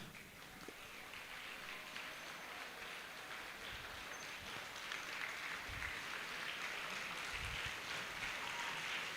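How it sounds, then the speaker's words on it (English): School prize-giving audience applauding their principal at an awards ceremony: steady, faint clapping from a crowd that swells slightly over nine seconds, heard from a distance without talk. "standing and giving a round of applause to our dedicated, hard-working principal"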